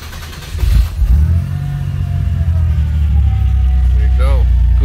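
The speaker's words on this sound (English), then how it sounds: "Now we start the car." A Chevy Impala's engine turns over and catches after a starter replacement, a sudden loud burst that settles into a steady low idle rumble, close by, with a voice briefly over it.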